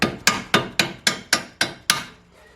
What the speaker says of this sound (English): use that dead blow hammer. It's a rubber one.